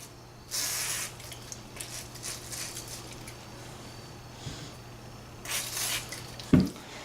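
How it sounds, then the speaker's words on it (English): Two short bursts of hissing penetrating oil spray onto an SKS rifle spring, separated by a quiet stretch, with a sharp knock near the end. "Spray the spring down."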